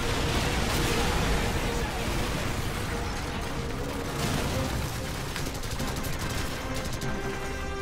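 Dense Call of Duty 4 battle noise, a grenade explosion amid steady rattling gunfire, loud and continuous, with voices mixed into the din.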